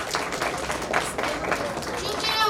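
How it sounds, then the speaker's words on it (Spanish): An audience at a Book Day round-table discussion in Chapingo claps loudly for three teachers, a dense, continuous patter of applause that fills the whole stretch, with speech mixed in. "les pediría que le demos un fuerte aplauso a las tres maestras"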